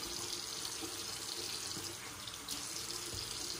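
Tap water runs steadily from a faucet into a sink to rinse a shaving razor, a constant close splashing rush with no talking over it.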